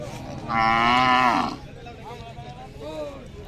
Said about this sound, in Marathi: पाहू शकता 2 गाय आहेत